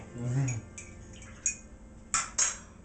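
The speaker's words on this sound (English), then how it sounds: "Let me stir my coffee." A metal spoon clinks against the side of a cup of coffee while it stirs, making three or four bright, light taps near the end, after a brief low voice at the start.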